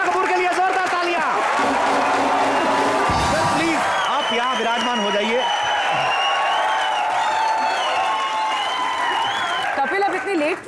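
Loud studio audience applause and cheering on a comedy show greeting Ajay Devgn and Kareena Kapoor, with whoops and shouts from the crowd while someone speaks over the din throughout.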